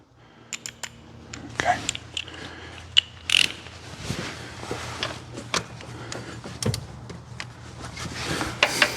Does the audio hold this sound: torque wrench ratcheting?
yes